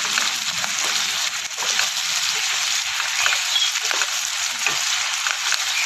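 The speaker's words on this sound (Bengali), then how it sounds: "ক্যাপসিকামগুলি অল্প ভাজা হয়ে গেছে" Capsicum frying in a pan, a steady bright sizzle with faint stirring scrapes, close and fairly loud, continuing evenly without talk.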